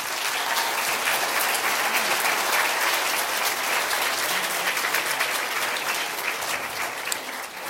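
Audience applause welcoming the speakers at a panel event, steady dense clapping from a crowd that holds throughout and fades slightly at the end.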